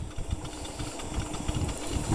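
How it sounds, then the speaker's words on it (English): A worn-out, clapped-out E Plus CH25 Argos ebike runs with a low, steady motor whir and rattling vibration, moderately close and continuous throughout. "Yeah, you can hear my bike. It's a bit clapped out."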